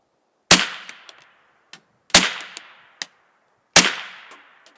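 Remington Speedmaster 552 semi-automatic rimfire rifle firing .22 Short rounds: three sharp, moderately loud cracks about one and a half seconds apart, each followed by brief decay and small mechanical clicks of the action cycling.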